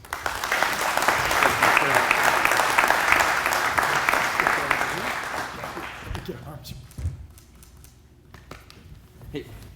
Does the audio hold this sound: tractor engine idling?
no